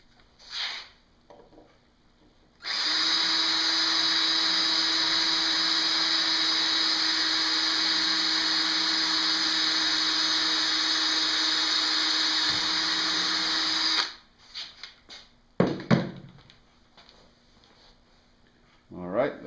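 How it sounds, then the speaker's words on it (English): A power drill whirs steadily at high speed for about eleven seconds, drilling a pilot hole in a Yamaha Venture motorcycle windshield, loud and close, then stops; brief clatter and handling noises follow. "So I'm going to drill a pilot hole"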